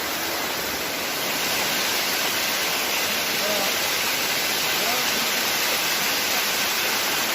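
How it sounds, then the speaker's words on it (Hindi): Thakurgoda waterfall roars as a dense, steady broadband rush throughout, loud and close, with rain likely in the setting. "यही हूँ ठाकुरजोड़ा वाटरफॉल"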